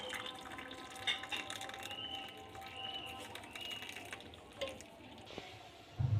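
Strained Kashmiri pink tea poured into a cup, a steady, quiet liquid trickle with faint drips close by, ending in a brief knock.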